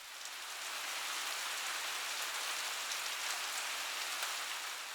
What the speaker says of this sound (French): c'est sous le son d'une forte pluie que l'on s'est tous les deux écroulés littéralement sur le lit